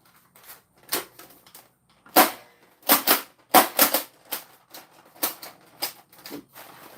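A Nerf Rival-style shotgun blaster fires and is pumped repeatedly nearby, sharp plastic clacks and thumps in an uneven rhythm, with no voices.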